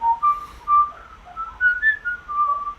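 Clear melodic whistling of the tune Pop Goes the Weasel, a single close whistler carrying the phrase in bouncing rising and falling notes, alone without speech.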